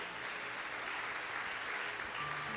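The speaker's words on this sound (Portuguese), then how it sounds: "Aplaude ao Senhor." A church congregation claps together in a steady, dense burst of applause, fairly faint and distant, continuing evenly throughout.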